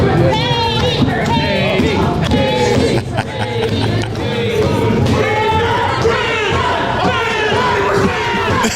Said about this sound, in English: They got a recording of the cheering.